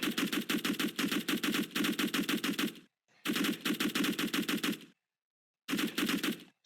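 Rapid automatic gunfire from a first-person shooter multiplayer game, heard as three bursts of fast repeated shots separated by short silences, loud and close with no talking.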